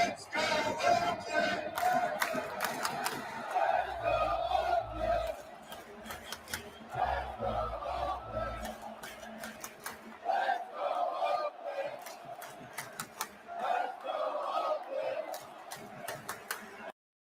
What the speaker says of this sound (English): And the final A's chant.